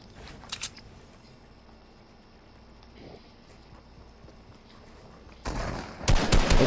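Gunshots ring out in Fortnite Battle Royale: faint scattered shots early, then a loud, close volley of rapid gunfire at the end, with no talk.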